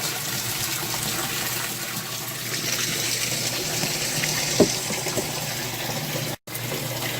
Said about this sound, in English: sometimes I'll just push it around. Make sure all the bubbles get dispersed